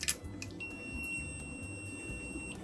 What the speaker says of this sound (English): If all goes well, this will power on the VMU. Maybe it'll make a beeping sound.